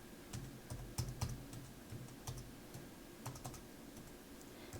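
Quiet, irregular clicking of typing on a computer keyboard, short bursts of keystrokes over a faint steady hum, no speech.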